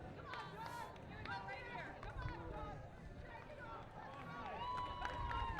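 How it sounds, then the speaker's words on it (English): A crowd at a pickleball match between the Ft Myers Flamingos and Lakeland Palms cheers for player John, a continuous roar of voices and whistles with chatter mixed in throughout. "Crowd letting know that they're here supporting John"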